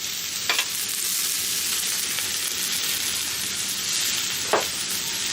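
Cabbage and mixed vegetables frying in a pan, a steady broadband sizzle throughout, close and even, with a couple of brief clinks of a utensil against the pan.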